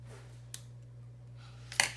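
Scissors snip through paper in a crafting project, two short crisp cuts, one faint and one louder, over a steady low electrical hum.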